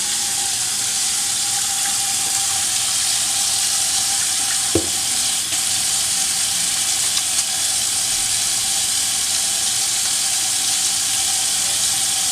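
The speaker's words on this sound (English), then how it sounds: "you should wash your hands and sing the happy birthday song at least twice" Tap water runs steadily under hand washing at a sink, a constant broadband rush with a brief splash or knock near the middle, before meat preparation in a kitchen.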